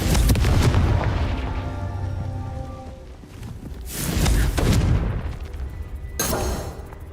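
Confringo fire spell explosions in Hogwarts Legacy, booming blasts in a game setting: a heavy rumbling hit at the start, another swelling boom around the middle and a sharper burst near the end, each trailing off with crackle.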